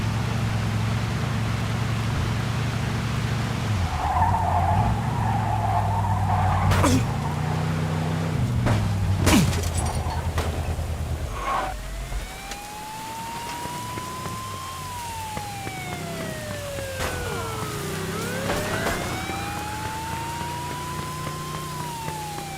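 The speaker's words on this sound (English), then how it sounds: "In pursuit of a speeding vehicle." A police siren wails in a speeding car chase in Mafia II, its rising and falling tone sweeping over engine roar, sharp impacts and rain-like road noise, with the siren growing clearer after a few crashes.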